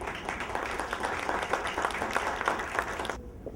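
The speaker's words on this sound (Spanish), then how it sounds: "Recibamos con un cálido aplauso a nuestro expositor magistral Andrés" A university audience at a talk on ethics and the environment gives a warm round of applause for the keynote speaker, dense clapping at steady volume that cuts off abruptly near the end.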